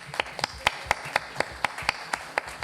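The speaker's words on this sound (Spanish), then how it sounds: "para quien pido un aplauso" Sparse, evenly spaced hand claps from an audience at a book presentation make a light, rhythmic pattern of roughly four claps per second with quiet gaps between them.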